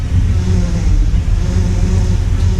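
A 1957 Chevy Bel Air's rebuilt engine idles steadily with a deep, continuous low rumble, loud and close throughout, with no clear revving.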